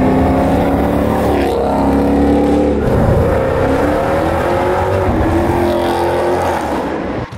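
Jeep Grand Cherokee fitted with Stainless Works headers and exhaust revs loudly and close by, a deep continuous engine roar that swells and falls in pitch over several seconds with no talk.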